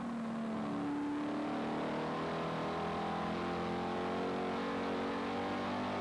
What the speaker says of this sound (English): Let's ride on board now with Harold Brown, car number 31 out of Calgary, Alberta.